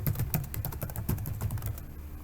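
Quiet, rapid clicking of a computer keyboard as Java code is typed, an uneven run of close keystrokes with no voices.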